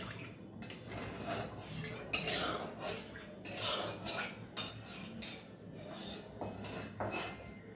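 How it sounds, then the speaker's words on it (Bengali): A spoon scrapes and clinks against a cooking pan as spice paste is stirred and mixed, soft intermittent metallic taps and scrapes at close range with no talking. "এবার ভালো করে নাড়াচাড়া করে মিশিয়ে নেবে"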